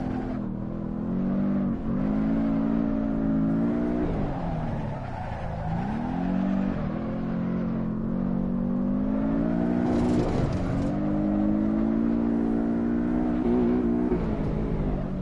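A Subaru-sounding car engine in the Assetto Corsa driving game revs hard and continuously while drifting, its pitch rising and falling with throttle and tires squealing underneath, loud and close with no talk.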